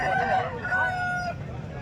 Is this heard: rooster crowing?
yes